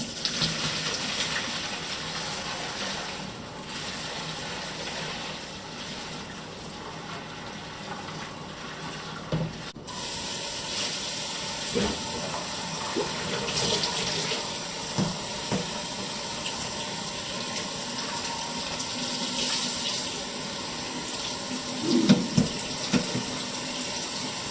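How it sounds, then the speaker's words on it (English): Cold tap water runs steadily into a sink, rinsing strained pork trotters for tonkotsu ramen broth; a continuous close splashing gush that grows louder and fuller partway through, with faint handling clatter. "I'm going to strain the pork trotters out, and I'm going to run them under cold water"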